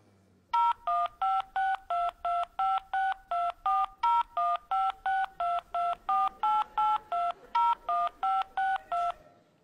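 A telephone keypad sends about twenty clear DTMF tones in a steady, evenly spaced rhythm, entering a social security number into an automated phone system; each beep is loud and short, with brief silent gaps between.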